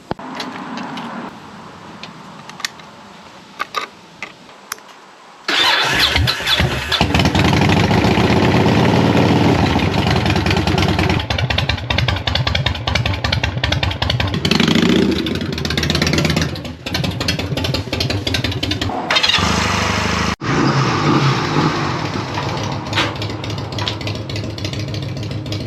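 Two motorcycles, a Honda Rebel and a Yamaha Roadstar, start up under a carport and settle into a loud, steady idle, one engine catching after a short quiet lead-in and running throughout with slight throttle variations.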